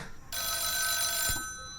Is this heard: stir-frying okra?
no